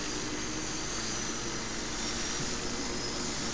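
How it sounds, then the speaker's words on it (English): Little Bird helicopter in the game Battlefield 3, flying over Sharqi Peninsula on a Rush map: a dense, unbroken rotor and engine roar, loud and steady throughout with no talk. "This final clip shows some helicopter footage. The little bird on a rush map on Sharkey Peninsula."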